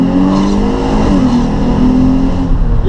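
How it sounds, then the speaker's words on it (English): A Subaru WRX with a turbocharged engine revs loudly and close, a steady throaty drone with a slight pitch rise for a few seconds. "You like the sound of the turbo? The turbo does sound a lot better."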